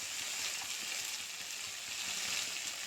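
Fennel seeds, green chili paste and salt fry in a kadai with a steady, soft, hissing sizzle that stays even and close throughout, with no other sounds on top.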